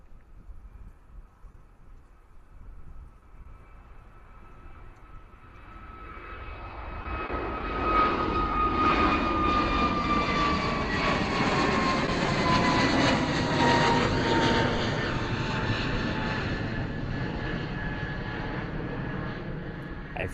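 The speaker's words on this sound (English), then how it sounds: "A320 Neo, of course, heading out to Tenerife." An Airbus A320neo jet airliner departs Bristol Airport for Tenerife, its engines building from a distant rumble into a loud, sustained roar with a whining tone that gradually drifts lower, with no talk over it.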